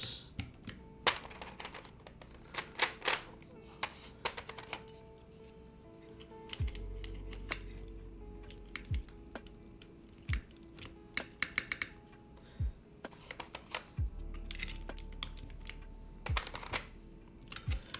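Keys clack on a custom mechanical keyboard fitted with PBT keycaps, with irregular bursts of close, crisp keystrokes and a few deeper thuds separated by pauses.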